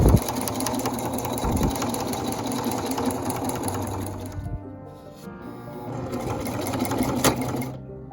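A sewing machine stitches the seam of a Regency corset with a steady rapid mechanical whir close by, pausing briefly partway through before resuming its running hum.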